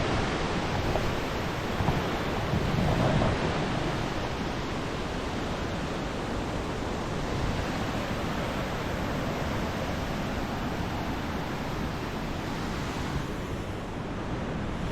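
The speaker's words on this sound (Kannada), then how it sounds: "ಇಲ್ಲಿಂದ ನೀರು ಬರೋದು." Rushing river water near Mekedatu in the rainy season, a loud, steady broadband roar of flowing water that continues without letup from start to finish.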